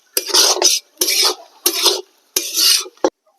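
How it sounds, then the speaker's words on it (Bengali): Mung dal and raw peanuts are stirred and roasted in a pan, with four distinct rhythmic bursts of dry scraping and rattling from a spoon against metal, loud and close, and a sharp clink at the end. "মুগ ডালের সাথে আমি এখানে একটু কাঁচা বাদাম ভেজে নেব।"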